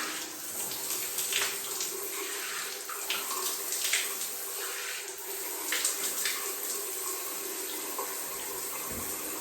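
Steady stream of tap water running into a sink while a clean towel is rinsed, with light splashing and shifting flow, fairly close and alone without talk.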